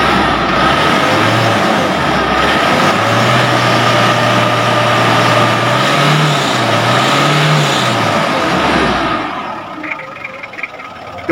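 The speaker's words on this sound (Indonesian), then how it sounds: "Coba didekatin biar suaranya gimana suaranya. Suara mesinnya ini sendiri." A 2004 Ford Ranger with a turbocharged engine runs steadily up close, a continuous low rumble with a couple of slight revs rising and falling before the sound drops off near the end; no talking.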